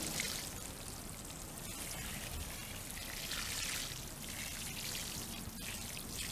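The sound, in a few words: water being poured onto garden soil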